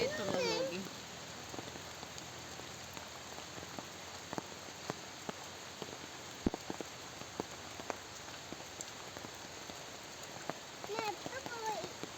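Steady rain patters on a surface at a bamboo house, with scattered louder drips, while voices briefly murmur in the background.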